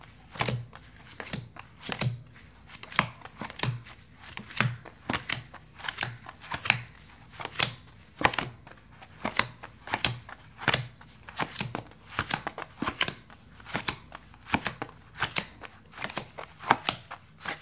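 Tarot cards being shuffled close up, with a steady run of soft riffling flicks and taps that repeat at a brisk, fairly even pace for a long stretch without talk.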